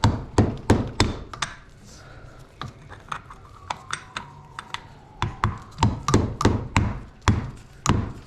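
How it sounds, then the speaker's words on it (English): A mallet lightly taps a shock clip on a 2024 Yamaha YZ450F shock during an oil change, giving sharp, close knocks in irregular bursts with short pauses between them. "Tap it down with a mallet"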